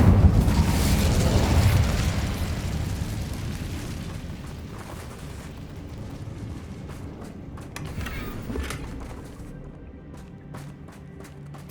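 An Incendio fire spell cast in Hogwarts Legacy, a loud fiery burst and roar at the start that fades over several seconds, followed by smaller crackles and pops, with no talking.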